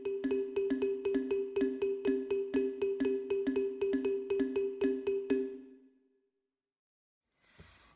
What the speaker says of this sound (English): simplify down to being a 24/4 and a 13/4 polymeter, which would sound like this.